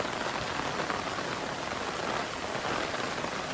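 Heavy monsoon rain pours down in Mumbai as a dense, steady roar of water on the street, loud and unbroken throughout with no voices.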